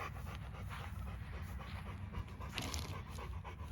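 A large Rottweiler–Newfoundland mix dog pants steadily and rapidly, close to the listener, with no voices.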